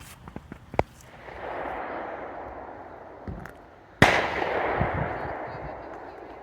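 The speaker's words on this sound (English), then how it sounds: "That's just somebody shooting a gun." A gunshot cracks from a distance in rural McCarr, Kentucky: one sharp report and then a longer rolling echo, heard outdoors over a steady background hiss, with a few faint clicks before it.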